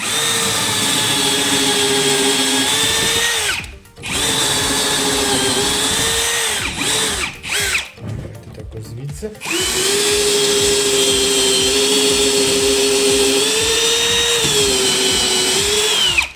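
A power drill fitted with a freshly sharpened bit bores into oak wood, giving a loud, steady whining drone that briefly cuts out near four seconds and again for a few seconds later before running on.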